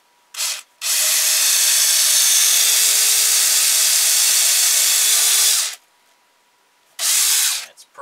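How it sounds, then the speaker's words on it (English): A power drill bores a hole, a brief opening burst followed by a sustained, loud, high whirring grind for about five seconds, then a pause and another short burst, all close up with no talking. "take our drill and we're going to drill a hole in here"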